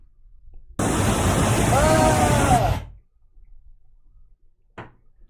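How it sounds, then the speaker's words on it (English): A loud waterfall in San Diego roars as a dense, broadband rush for about two seconds, then cuts off abruptly, followed by near silence and a brief faint burst. "So this is the waterfall and it's super loud, Cory."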